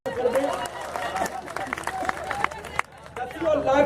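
An audience at a poetry gathering breaks into steady clapping, many hands together at moderate volume with murmuring voices under it and brief sharper peaks.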